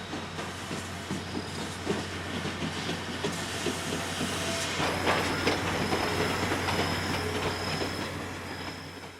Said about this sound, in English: Wow, a steam engine.